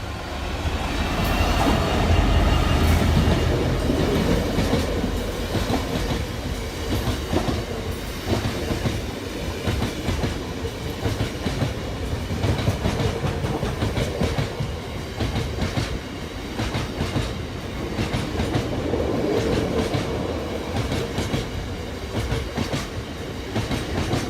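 A GB freight train rumbles steadily past a level crossing at Staythorpe, its loud wheel clatter and engine drone continuous and close throughout, with no voices.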